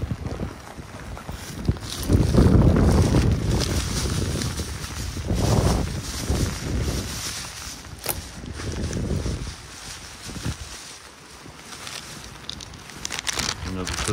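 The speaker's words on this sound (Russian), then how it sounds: "Просто ветер." Gusty mountain wind at Krasnaya Polyana buffets the microphone in rough, uneven rushes, loud and close, with brief quieter lulls between gusts.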